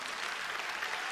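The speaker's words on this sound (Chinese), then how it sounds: "给台湾人一个掌声好不好" Brief burst of dense audience applause at a Riway business seminar, steady many-handed clapping filling the whole moment at moderate volume.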